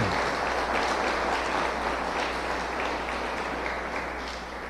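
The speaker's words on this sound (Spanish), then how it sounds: "¿No creen que deberían darle un buen aplauso al Señor?" A church congregation applauding the Lord during a sermon, a dense, steady roar of many hands clapping throughout that eases slightly toward the end.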